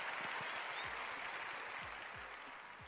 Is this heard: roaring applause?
yes